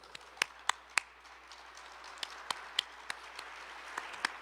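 Sparse, distinct handclaps at a music congress, a few sharp separate claps with uneven spacing, quiet and somewhat distant rather than a full ovation.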